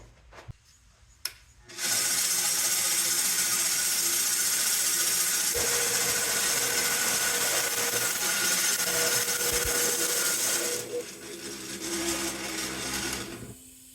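Stick arc welding on a spinning wood lathe, amperage turned up: a sudden loud, steady crackling buzz starts after a quiet moment and holds for about nine seconds before dropping back to the lathe's softer running hum.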